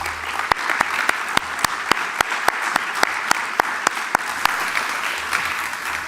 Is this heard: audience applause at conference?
yes